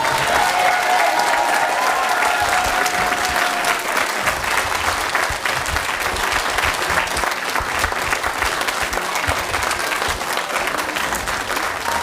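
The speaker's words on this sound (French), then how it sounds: "Merci les enfants, on va les remercier avec des gros applaudissements" Loud, sustained audience applause for children after their school theatre play, dense clapping from a crowd filling the whole stretch without a break.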